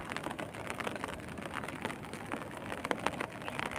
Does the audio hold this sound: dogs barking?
no